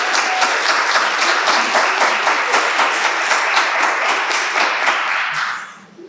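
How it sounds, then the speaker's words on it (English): A room of listeners at a poetry anthology release reading claps in sustained applause for several seconds before it tapers off and fades near the end. "I just want to give a round of applause for that."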